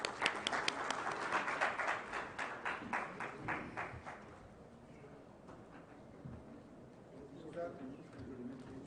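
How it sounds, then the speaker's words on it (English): An audience claps for a few seconds with sparse, uneven claps at a conference panel. The clapping fades out about halfway and quiet talk follows. "Can we have a great round of applause"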